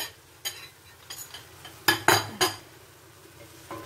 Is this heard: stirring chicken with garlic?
yes